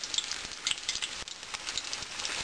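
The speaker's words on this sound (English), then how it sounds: "we're just going to drop these battered hard-boiled eggs in this grease" Battered hard-boiled eggs deep frying in grease at about 190 degrees, a steady bright sizzle and crackle with small bubbling pops throughout, close and continuous, no voices.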